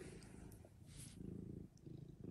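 A house cat purrs while being petted, a soft, steady, close rumble with a rhythmic pulse, heard alone at low volume with no voices.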